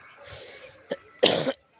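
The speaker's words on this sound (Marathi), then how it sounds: "थोडासा कफ वगैरे खोकला आले ना मला" A man out of breath after a morning run lets out a short cough and then a louder, harsher cough close to the microphone, with quiet breathing before them.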